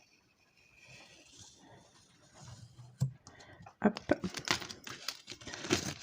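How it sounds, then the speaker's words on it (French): Crinkly tearing and peeling noises of small pieces of adhesive tape come in short bursts, close and fairly loud, with a brief spoken word in between. "Maintenant, on va enlever là le petit scotch"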